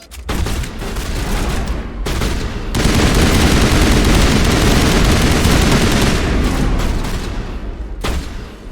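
Rapid gunfire trades back and forth in a firefight in Mass Effect Legendary Edition, with dense bursts of shots that swell into a sustained, loud barrage, then break off briefly before resuming.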